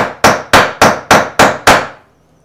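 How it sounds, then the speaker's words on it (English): A plastic hammer strikes a curved metal jewelry piece six times in a steady, even rhythm, each blow a sharp close tap that rings briefly before the next, with silence after the last. "then we'll use a plastic hammer so we don't dent the metal to kind of get this curve back out of here"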